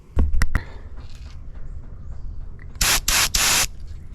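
A heated turbo spray paint can fires outdoors: a few sharp clicks and taps come first, then three loud hissing bursts of spray in quick succession near the end.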